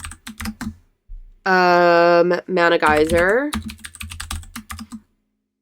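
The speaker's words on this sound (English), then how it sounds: "I know my keyboard is really clacky and I love it" A loud, clacky computer keyboard sits right beside a microphone and clatters in quick bursts of close keystrokes. A voice speaks briefly in the middle while the typing pauses, then the typing resumes.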